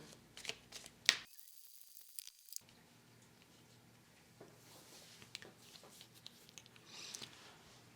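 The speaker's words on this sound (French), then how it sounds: "je mets les cartes en place" Tarot cards shuffled and laid out for a horoscope reading, heard as close, soft papery riffles and taps with a sharp snap early on, then a stretch of near silence and scattered light card placements.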